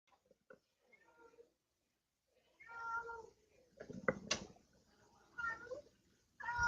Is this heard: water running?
no